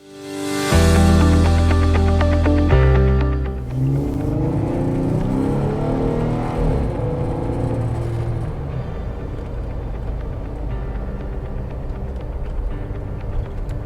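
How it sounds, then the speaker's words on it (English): A Jeep engine fitted with an iDrive throttle controller starts with a loud, close roar, then settles into a steady running drone with some rise and fall in revs. "We're going to run this on my Jeep."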